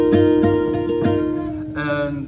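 Electric guitar playing a riff: four evenly spaced plucked chord hits ring out, then a fretted note sustains and changes pitch near the end, close and clear with no talking.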